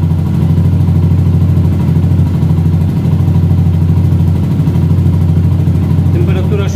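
Zontes 125 motorcycle fitted with an Akrapovic sport exhaust idling close up, a steady, low, even burble holding throughout with no talk over it.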